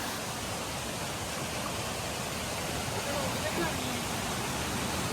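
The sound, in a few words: water falling at Anakulam waterfall, Munnar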